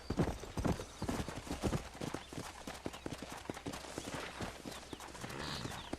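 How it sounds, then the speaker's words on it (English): A white horse in the Red Dead Redemption video game trots with brisk, close, steady clip-clopping hooves that fill the whole stretch, and faint game ambience sits underneath. "That's all it asked for, a white horse."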